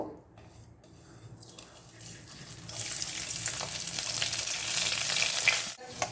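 Panch phoron, dried red chilli and chopped garlic hit hot mustard oil, starting quiet and swelling into a loud, steady, close sizzle that cuts off abruptly near the end.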